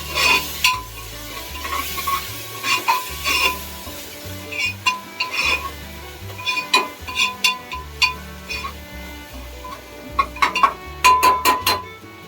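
A spoon stirs chicken and mutton curry with turmeric in a pan, giving repeated scraping and clinking strokes in irregular bursts over a low sizzle. The sound is close and moderately loud, and no one speaks.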